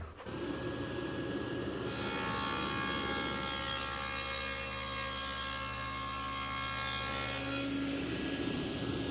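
A saw cuts a dado through melamine edge banding. There is a quiet hum, then a loud, steady whirring cut for about six seconds, and then the blade winds down. No voices can be heard.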